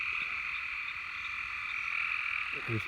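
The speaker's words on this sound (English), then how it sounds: "Listen to the frogs." A dense chorus of frogs croaks continuously from a pasture, a steady high-pitched trilling wall of sound throughout, with a brief low voice-like sound near the end.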